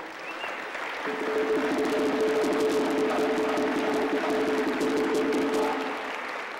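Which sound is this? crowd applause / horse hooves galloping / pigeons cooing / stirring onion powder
crowd applause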